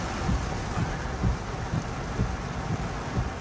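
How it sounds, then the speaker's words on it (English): Warm Hawaiian rain pours down in Waimea, Kauai as a loud, dense roar of water. Regular low thumps run beneath it, like drops striking a nearby surface. "The Hawaiian rain is so warm"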